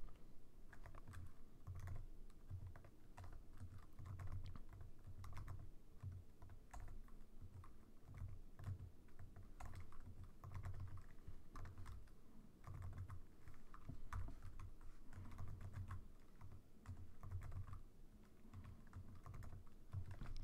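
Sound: typing on a computer keyboard

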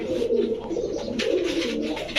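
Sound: pigeons cooing

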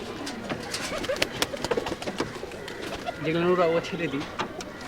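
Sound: Rajshahi Giribaj pigeons cooing

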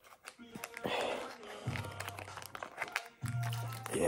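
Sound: opening udon package by hand

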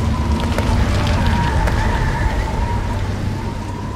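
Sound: thunder, hail and rain storm

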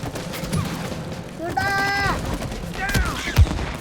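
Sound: gunfire in the video game It Takes Two

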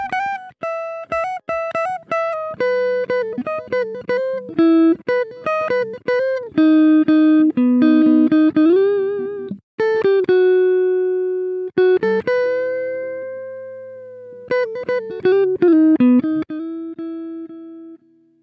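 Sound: guitar solo played through Fruity Limiter compression

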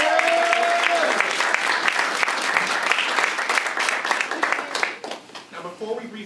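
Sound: audience applause

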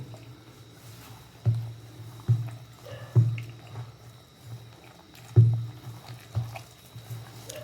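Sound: water poured into wheat flour dough while kneading

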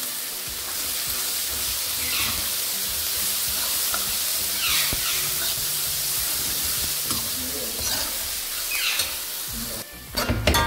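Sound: onions being sautéed in a pan

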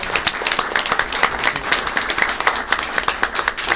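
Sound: audience applause at city council meeting

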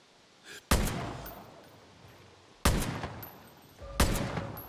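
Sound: gunshots in video game Far Cry New Dawn

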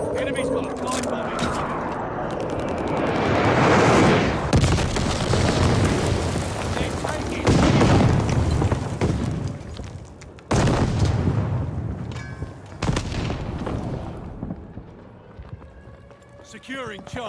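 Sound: glide bomb explosions in video game Call of Duty Vanguard

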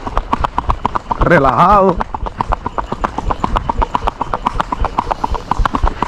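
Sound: Andalusian horse hooves clip-clopping

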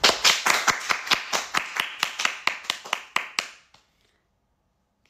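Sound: applause, clapping

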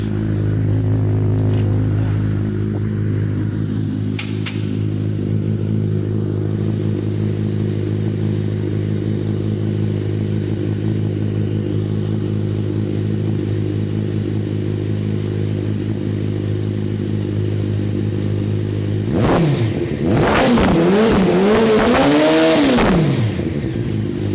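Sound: motorcycle engine revving through exhaust

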